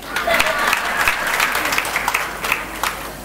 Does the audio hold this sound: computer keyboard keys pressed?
no